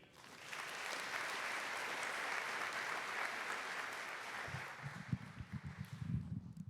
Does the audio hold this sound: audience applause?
yes